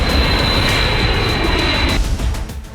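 Loud, steady roar of B-52 bomber jet engines, a dense broadband rumble holding at full strength before easing slightly and fluttering near the end.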